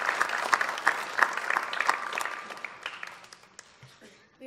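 Audience applause at a winter evening music concert, a dense patter of many hands clapping that swells briefly and then thins out and fades toward the end.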